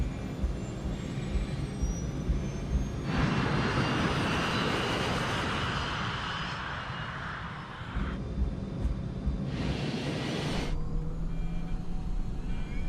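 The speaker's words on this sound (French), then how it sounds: "les pilotes procèdent au décollage." Boeing 737 jet engines spooling up to takeoff thrust on a 2400-metre runway, a loud sustained roar that swells midway and holds steady, with a second surge near the end.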